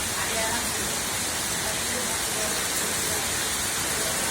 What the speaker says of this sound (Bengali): ঢাকা শহরে বৃষ্টি নামতেছে, প্রচুর বৃষ্টি হচ্ছে।